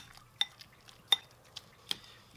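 A utensil stirs sour cream into mashed avocado in a bowl, making a few sharp clinks against the dish between soft, quiet scraping, close and unaccompanied by speech.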